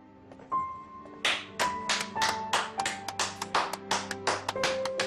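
One person claps hands in a drama scene set in a rural village, a quick sharp burst of close claps picking up into a steady rhythm over a soft sustained musical tone.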